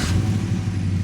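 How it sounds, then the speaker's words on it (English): A cammed American V8 in a Chevrolet K1500 truck fitted with a custom quad tip exhaust rumbles at a steady, loud, close idle, with a deep throbbing tone and no voices. "You just can't beat the sound of a healthy cammed American V8."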